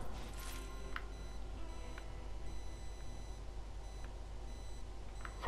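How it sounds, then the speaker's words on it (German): Sharp electronic beeps in Borderlands 3 sound at roughly one-second intervals like a countdown, fairly faint over a steady low rumble of game background noise. "Warum war hier dieses Piepsgeräusch?"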